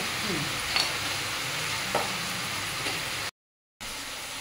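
White oyster mushrooms fry in a pan with a steady close sizzle and occasional stirring scrapes, then cut off briefly into silence before the sizzling resumes.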